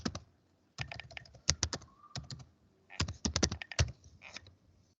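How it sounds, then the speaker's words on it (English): Typing a command on a server's computer keyboard: bursts of crisp, close key clicks in quick clusters separated by short pauses, alone without talk. "In my server, I'm typing gp update"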